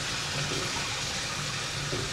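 Water poured into a cooking pot while preparing capellini spaghetti, a steady, continuous rushing splash close by with no break.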